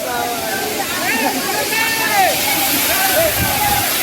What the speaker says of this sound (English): the gushing and beautiful rushing sound of this waterfall